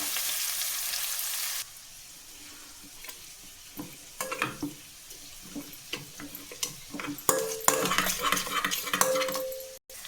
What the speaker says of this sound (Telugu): ఉల్లిపాయలు కాస్త వేగాలి, పచ్చివాసన పోయేదాకా వేసుకోవడం.